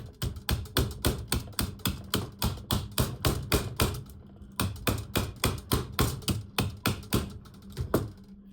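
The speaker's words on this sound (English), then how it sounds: "Give it a little tap with my hammer." A hammer taps repeatedly on a Glock 45 trigger part, about forty quick, sharp, evenly paced light knocks at close range, with a brief pause midway.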